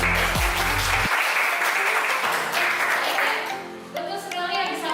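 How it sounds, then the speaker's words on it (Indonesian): In a high school biology class, students applaud a classmate's answer about enzymes: a bright, steady patter of clapping layered with sustained electronic tones that shift pitch partway through. "nah, tepuk tangan buat enzim"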